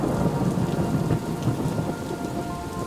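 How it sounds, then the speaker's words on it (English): Heavy rain and rolling thunder in the video game Superliminal, a dense steady downpour hiss with low rumbling thunder underneath, loud and continuous with no voices. "it's raining."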